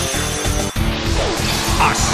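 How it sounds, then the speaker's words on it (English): A smashing blow lands during a tense final-stage Pokémon Battle Revolution battle, a loud impact burst set within a dense, continuous game soundtrack that carries on around it. "A smashing blow!"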